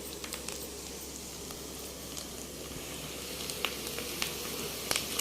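Country chicken with spices sizzling as it fries in a pan, a steady close crackle and hiss with scattered sharp pops, no talking.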